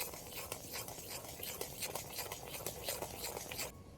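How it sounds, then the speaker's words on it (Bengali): Dried coconut powder and Gobindobhog rice flour mixed together in a bowl: soft, repeated scraping and patting strokes stir a dry powder at close range, then stop abruptly near the end. "সবগুলো একসাথে একটু ভালো করে মিশিয়ে নেব"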